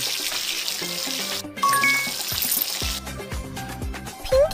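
Water runs and trickles in a kids' hair salon video game, a steady splashing stream under bright game music with a few chiming dings, loud and up front throughout.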